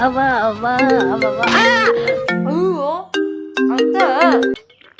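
A phone ringtone plays a bright, tinkling melody of repeated chiming notes, loud and close, repeating in phrases as it rings for an incoming call.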